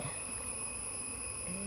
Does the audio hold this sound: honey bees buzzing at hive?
yes